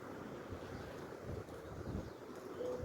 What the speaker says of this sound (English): I wish the wind would stop so I can film the video.